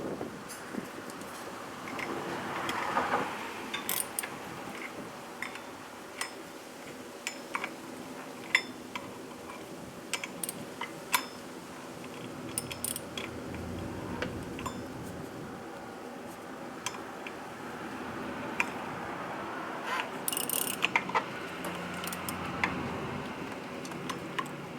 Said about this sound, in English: At this point you can use the socket wrench that is 11/16 to tight